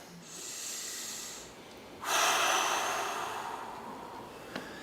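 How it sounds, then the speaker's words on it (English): A single deep, audible breath drawn and let out during a seated chair exercise session, a brief quiet inhale followed by a louder, longer breathy exhale, close and alone. "Take a deep breath."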